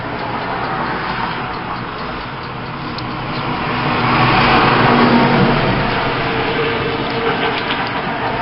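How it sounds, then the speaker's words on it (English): Steady road traffic rolls past outside, a continuous loud wash of car and engine noise that swells in the middle as a vehicle passes closer, with no talking. "Are you hearing that traffic?"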